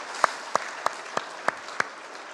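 Church congregation at a Sunday worship service clapping in unison to bless elderly members, six sharp, evenly spaced claps about a third of a second apart, moderately close and with no talking.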